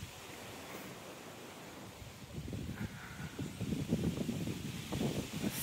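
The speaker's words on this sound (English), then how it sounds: "So much wind." Strong wind blowing outdoors during a wind advisory, a steady low rushing roar that swells and gusts louder in the second half, with no talk.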